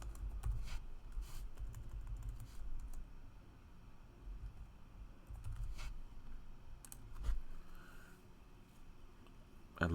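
Keys clatter on a computer keyboard in short bursts of typing, quiet and close, with faint low background hum and no speech.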